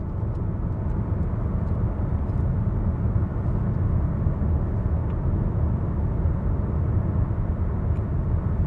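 Steady broadband road and wind roar inside a 2022 Honda HR-V Hybrid cruising at 70 mph on a dual carriageway, a constant loud low rumble with no speech over it.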